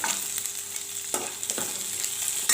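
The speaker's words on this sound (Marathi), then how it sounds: "त्याच्यामध्ये आपण कांदा टाकू तेलामध्ये, लसूण टाकला चिरलेला, लाकूडला कढीपत्ता, मिरची टाकू" Chopped onion, garlic, curry leaves and green chilli frying in hot oil for a moong dal dish, a steady close sizzle with a few stirring scrapes against the pan.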